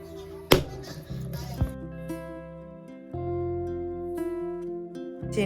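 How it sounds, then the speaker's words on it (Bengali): A whole coconut is struck hard to crack it open in a home kitchen: a couple of sharp, close knocks stand out over steady background music. "শব্দ বানাবার জন্য নারকেলটা এখানে ফাটিয়ে নিচ্ছি"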